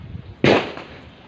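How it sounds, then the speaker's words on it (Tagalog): A single sharp firecracker bang goes off close by in a backyard, a loud broadband crack followed by a short fading tail over quiet background noise. "Sige, may paputok."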